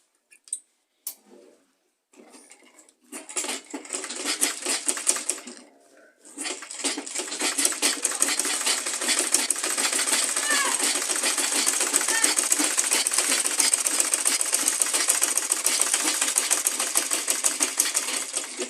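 A sewing machine top-stitches along the zip of a leather purse, a few short bursts giving way to a long, steady, loud rapid stitching run.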